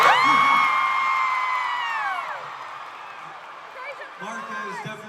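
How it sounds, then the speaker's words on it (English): A crowd of listeners cheers and whoops loudly for a storyteller, with high sustained shouts at the start that fade and a brief renewed burst near the end, mixed with voices. "Everybody, a round of applause for a wonderful story."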